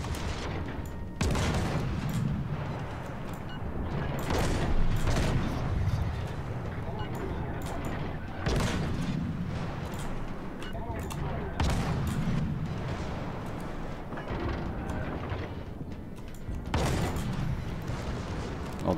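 Naval guns firing from warships in the World of Warships game, a series of heavy booming salvos spaced every few seconds against a constant rumbling background, with no voices.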